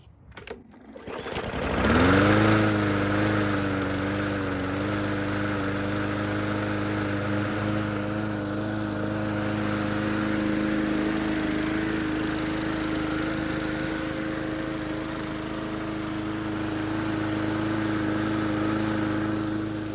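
A Yard Machines lawn mower with a Briggs & Stratton 300E engine cranks briefly, catches, and settles into a steady, loud running drone that holds for the rest of the stretch, with no one talking.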